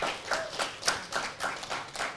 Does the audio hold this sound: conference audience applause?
yes